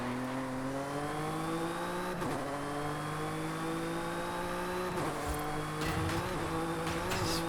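The engine of a Jaguar XJ220 race car in a racing video game drones loudly and steadily, its pitch rising gradually as it accelerates, with brief dips where it shifts gear or brakes for corners.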